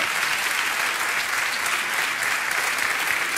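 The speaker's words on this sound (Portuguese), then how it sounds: "Muito obrigado pelos vossos aplausos" Theatre audience applauding steadily and loudly at a televised anniversary gala on stage at a Lisbon theatre, a dense, even wash of clapping with no gaps.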